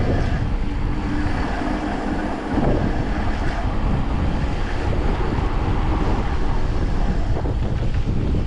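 Strong wind buffets an outdoor microphone on a windy Crimean mountain road near Mount Koshka, producing a constant loud roar and rumble with gusty swells that drown out everything else.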